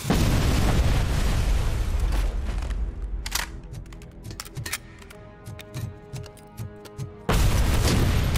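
Grenade blast in the video game Robocop: Rogue City, a loud, broad boom that rumbles, then falls to scattered clatter and crackle before a second heavy explosive burst hits at the end.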